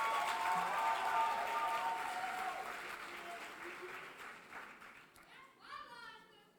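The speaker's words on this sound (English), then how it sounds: "Please give them another round of applause" An audience applauds pageant finalists in gowns at a college queens competition, the clapping loud at first and then slowly fading, with a voice speaking over it near the end.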